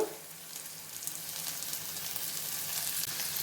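Small chopped tomato pieces fry in a pan for an egg curry, giving a soft, even sizzle that holds steady at moderate volume with no voices.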